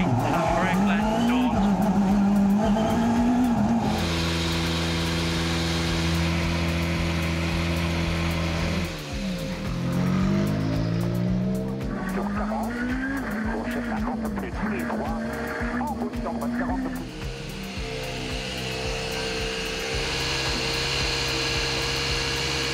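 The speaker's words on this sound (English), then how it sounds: "the cars are making their way through the opening" Rally cars run through the opening stage of the 2024 Monte Carlo Rally, with engines surging and tires squealing in several passes under ongoing voices and background sound.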